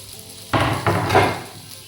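Garlic and ginger hit a hot pan with a sudden sizzle that swells in two bursts and keeps frying steadily, loud and close, with no talk.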